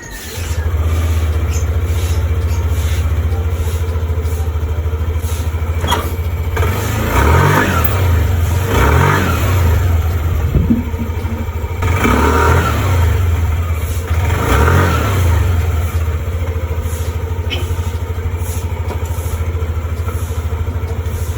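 Yamaha NMAX scooter engine on a test ride after a center spring replacement, a steady loud drone with repeated rises and falls in revs, close to the microphone, no talking.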